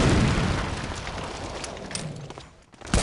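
A grenade bursting beside barrels in the shooter game Medal of Honor: Allied Assault, a loud close boom that fades into a lingering rumble with scattered smaller crackles.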